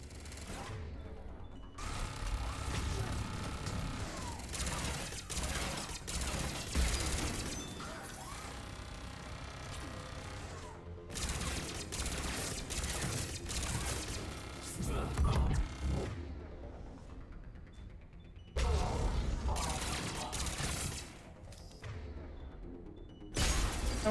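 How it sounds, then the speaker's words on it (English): Turret gunfire in the video game Mass Effect 3, with repeated loud bursts of automatic fire in several clusters separated by quieter gaps, mixed with mechanical game sounds and occasional talking. "These turrets are a problem. Oh, these turrets are a huge problem."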